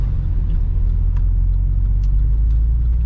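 Loud, steady low engine rumble from inside a car being driven at normal pace on the road, with faint ticks and knocks over the drone and no talking.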